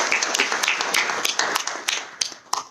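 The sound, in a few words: audience applause at a webinar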